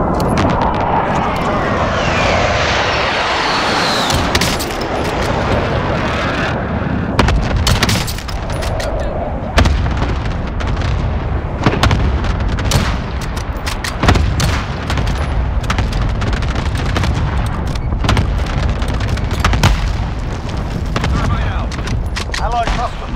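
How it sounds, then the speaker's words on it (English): A precision airstrike in Call of Duty on Rebirth Island during a trios match brings a dense barrage of booming explosions and sharp cracks that keep erupting across the span, loud and close, with voices at times. "Be advised, friendly precision airstrike inbound"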